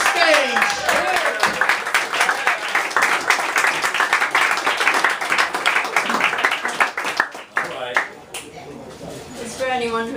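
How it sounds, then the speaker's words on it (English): Audience applause at a spoken word poetry event welcoming poet Nichole Acosta to the stage: a dense burst of clapping with cheers, fading out as a voice begins speaking near the end. "Clap it up for Nichole Acosta. Welcome her to the stage."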